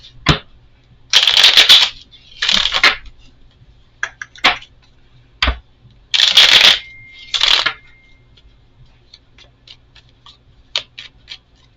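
Tarot cards shuffled and drawn in several quick riffling bursts, close and crisp, with soft snaps and taps of cards set down between them and no talking.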